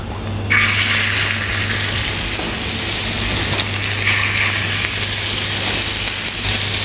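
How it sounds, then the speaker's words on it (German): Pork fillet pieces seasoned with salt and pepper start searing in a hot frying pan, a sudden loud close sizzle that holds steady and intense throughout with no talking. "Und braten es dann in einer Pfanne"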